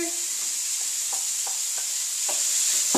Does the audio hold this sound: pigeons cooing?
no